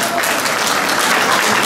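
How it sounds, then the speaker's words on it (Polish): Audience applause at an art and handicraft awards ceremony in Wrocław, a dense steady wash of many hands clapping, loud and close, with no gaps through the whole stretch. "Brawa wielkie!"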